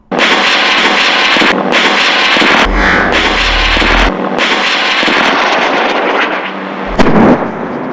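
Rapid bursts of weapon fire from a 500MD light helicopter armed with a 7.62mm minigun and seven-shot rocket pods, loud and continuous roaring fire with brief breaks and a sharp blast near the end.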